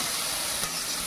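Chopped onion frying in a hot pan on a home stove while making chicken rice, a steady close sizzle and crackle with no talking.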